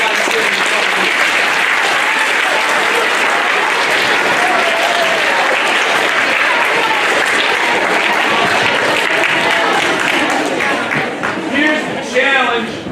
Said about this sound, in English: What I'd like you to do is applaud for yourselves for the behaviors I'm seeing from you.